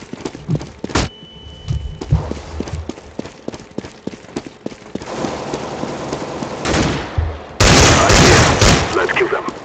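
A flashbang and bursts of gunfire in a video game, sharp bangs and rapid shots in irregular clusters, loudest in a dense burst near the end.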